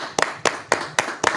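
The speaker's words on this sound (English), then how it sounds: "Let's clap it up." Congregation clapping at a sabbath service: five evenly spaced claps from a group in steady rhythm, fairly close.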